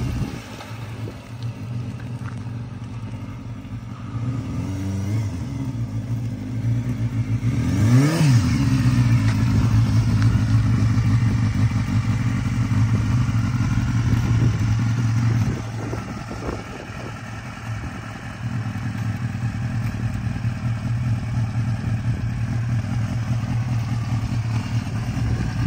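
A 1988 Honda CBR250R motorcycle engine cranks, catches and settles into a steady, fairly loud idle with a brief rev, heard close and without talk.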